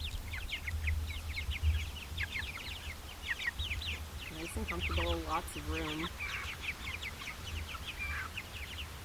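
Chickens cluck and chirp softly inside a PVC-pipe chicken tractor on a homestead garden, repeated light calls with a brief burst of louder clucking midway, under a person's quiet talk.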